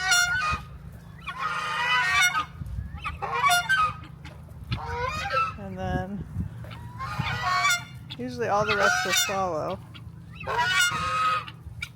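Geese honking loudly in repeated bursts, several birds calling close by, with a person speaking briefly between the calls.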